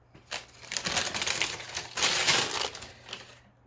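Paper wrapping crinkles and crumples in bursts while new Nike Air Force 1 Shadow Triple White sneakers are unboxed, with a loud rustling stretch near the middle and softer handling before and after.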